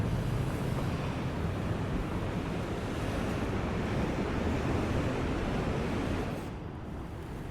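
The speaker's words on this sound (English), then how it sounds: "smashing against the sea walls, smashing against each other out there as the waves are reflected away from the seawall" Sea waves crash against a coastal seawall and break into each other as they reflect back out, a continuous loud roar of surf with wind buffeting the microphone, easing slightly near the end, with no voices.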